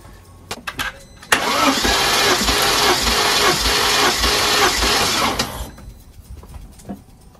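The engine of an Audi RS6 C5 Avant ABT cranks on the starter for a compression check, giving about four seconds of rhythmic, loud churning between quieter clicks and handling noises, recorded up close.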